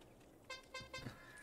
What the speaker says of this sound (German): Die Hupe.